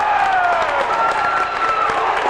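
A basketball crowd in the Abingdon gym roars and cheers after an offensive foul call against Gate City, a dense, steady wall of voices and whistles sustained throughout with some faint commentary underneath.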